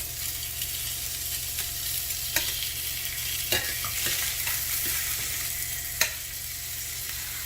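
Filet mignon sears in a hot pan with a steady close sizzle. A few sharp clicks and scrapes from turning or touching the meat break through it, and nobody talks.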